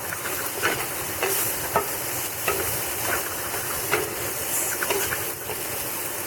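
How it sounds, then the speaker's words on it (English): Steady frying sizzle as chopped tomato goes into a pan of browning Spanish rice with basmati and chicken, with spoon stirring strokes scraping through at a regular pace over the continuous hiss. "Then I'm going to go ahead and add my tomato in there."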